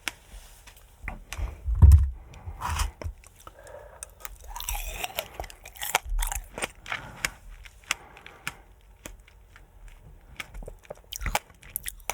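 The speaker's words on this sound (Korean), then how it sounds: "씨앗같이 생긴 점 그거 씹히는 소리가" Close-up crunching and biting of fresh strawberries in a winter strawberry ASMR eating session, the small seeds crackling between teeth in irregular bursts, with one louder bite near the start and no talking.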